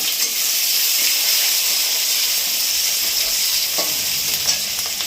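Onion goes into hot oil with garlic and sizzles loudly and steadily up close, a broad bright hiss of frying with light stirring scrapes throughout.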